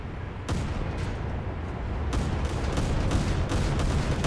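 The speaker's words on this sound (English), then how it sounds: "Where's that gunfire coming from?" Naval gunfire in War Thunder ship combat around the destroyer USS Cowell DD-547, a rapid series of sharp booms about every half second over a steady rumbling, loud and close with no voices.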